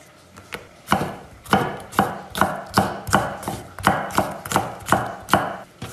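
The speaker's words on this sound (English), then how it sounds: "slice it into about 4 pieces. Cut each piece into strips." A knife slices a bell pepper into strips on a cutting board, with about a dozen crisp, evenly spaced chops in a steady rhythm, close and clear.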